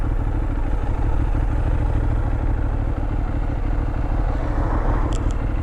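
A Benelli 752S motorcycle in full-power form is ridden, its engine a steady, continuous drone mixed with heavy wind rush throughout, loud and close, with no talking.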